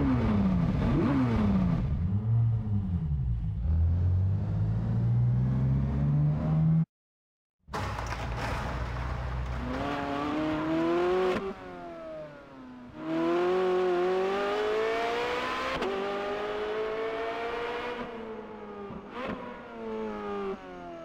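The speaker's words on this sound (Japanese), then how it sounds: "エンジンをかけて出発するわよ" A car engine in the racing game Test Drive Unlimited 2 starts up after a short silence and revs repeatedly, rising and falling in pitch, loud and alone.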